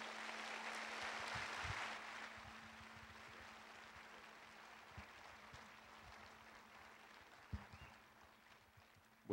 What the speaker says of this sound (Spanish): un gran aplauso para recibirlo.